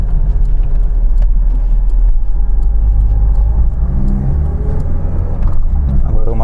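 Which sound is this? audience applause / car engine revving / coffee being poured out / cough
car engine revving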